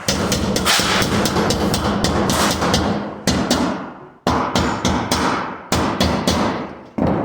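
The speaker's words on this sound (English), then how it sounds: "when you get to hammering these guys down, you just take a hammer" Loud metallic hammer blows pack turning vanes into a vane rail in quick bursts, each ringing and decaying, with short pauses between groups of hits.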